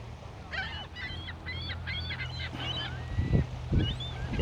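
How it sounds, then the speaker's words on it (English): Waterfowl at a lakeside give a run of repeated nasal honks close by, several calls in quick succession, followed by a few softer low thumps and rustles against a steady background hum. "There's a few ducks"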